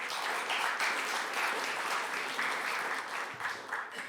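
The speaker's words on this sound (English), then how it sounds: "Please, big round of applause for Antonio." Audience applause for a panelist at a conference pitch session, an even, sustained wash of many hands clapping with no breaks, fairly full and close.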